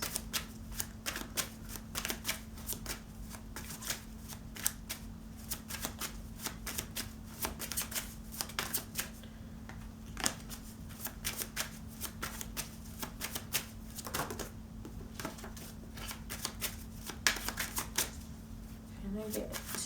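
Tarot cards are shuffled and drawn in a steady, dense patter of crisp riffling clicks for about twenty seconds, with occasional sharper snaps over a low constant hum.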